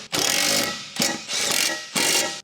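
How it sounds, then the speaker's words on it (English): A large impact wrench fitted with an 18mm deep socket tightens the spare tire carrier bolts on a 2007-2018 Jeep Wrangler, firing three loud, close hammering bursts separated by short pauses. "Now we have the 18mm deep socket on the large impact wrench. And we'll tighten the 4 carrier bolts."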